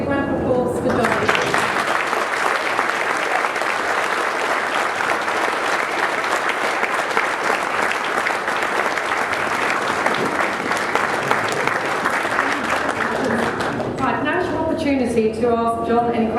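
Audience applause at a 2010 Q&A for the launch of the TH13TEEN ride at Alton Towers resort: dense, sustained clapping fills about thirteen seconds, then fades as a voice begins speaking.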